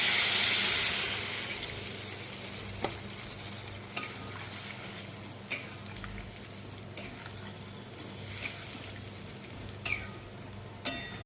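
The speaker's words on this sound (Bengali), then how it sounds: "এরপর আমি জলটা একটু অ্যাড করে দেবো" Sizzling and stirring in a pan of hilsa fish and eggplant curry as water goes in, a steady fry hiss with a loud burst at the start, then scattered spoon clicks and scrapes.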